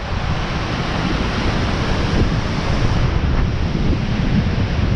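Strong wind roars steadily across the microphone, a constant loud rushing buffet with no pauses and no voices.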